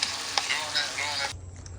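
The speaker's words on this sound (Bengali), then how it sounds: "এখানে আমরা হচ্ছে একটা মাছ হচ্ছে ভাজছি" Fish frying in a pan at a local market on Phu Quoc, Vietnam: a loud, close, bright sizzle with scraping stirs, cutting off abruptly near the end to a low background hum.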